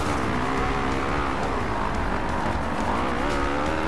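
A motocross bike in the MXGP 2 video game on the Maggiora track in Italy, its engine droning loud and steady as it pulls out of a corner, the pitch climbing and wavering without a break.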